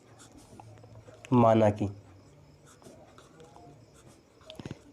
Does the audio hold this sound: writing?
yes